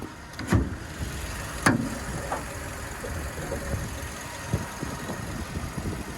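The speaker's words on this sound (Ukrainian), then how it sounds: "Двигун взагалі працює рівненько" Skoda Octavia A5 with a 1.6 MPI petrol engine idling, a steady low rumble with a few light knocks and taps, heard up close while someone talks over it.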